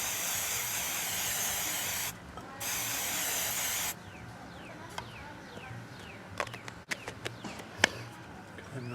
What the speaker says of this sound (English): I'm gonna go ahead and take my hairspray and spread the other one.